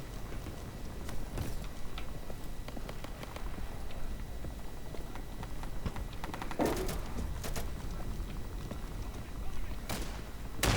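Light gun fire in a video game, scattered shots cracking out over a steady bed of game noise, with a sharper burst near the middle and another toward the end.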